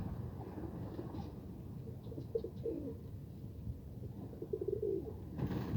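A young pigeon coos softly a few times against steady outdoor background noise, with brief low calls standing out near the middle and end.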